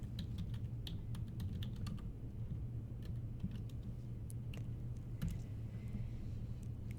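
Keys on a computer keyboard clatter in a quick, steady run of taps as a location is typed into a map search box, over a low constant hum, with no one talking.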